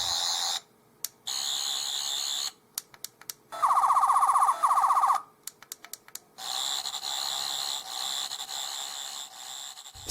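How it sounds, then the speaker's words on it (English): An 11th Doctor sonic screwdriver toy from the Doctor Who basic sonic range, its sound chip firing several bursts of rising, warbling electronic whine, clear and close with short silent gaps and no talking. "it has the accurate 11th Doctor Sonic sound chip"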